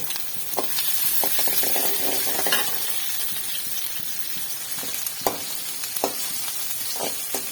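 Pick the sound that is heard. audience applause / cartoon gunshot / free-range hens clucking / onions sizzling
onions sizzling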